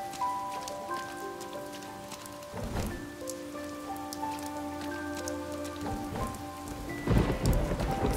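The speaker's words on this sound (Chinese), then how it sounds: "雨天的天气系统一共有4种，再给你们看一下，还有雷声，是啊，打雷了" Rain and thunder from a video game's weather system: steady rainfall with deep thunder rumbles at about 3, 6 and 7 seconds, over sustained tonal background music and no talking.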